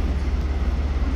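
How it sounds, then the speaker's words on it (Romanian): Russian high-speed train passing close by, a steady loud rumble with a deep low hum and continuous rail noise throughout, no voices. "Așa arată trenul lor de viteză,"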